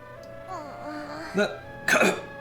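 A sick boy coughs in the Octopath Traveler video game: two short, harsh bursts, the second louder, over soft background music with a brief voiced moan just before.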